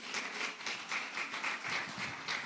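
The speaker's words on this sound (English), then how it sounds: "Let's keep clapping for him" An audience at the TELexOwutu 2023 event claps for an honoured speaker, a short, faint burst of applause rising and falling in soft waves.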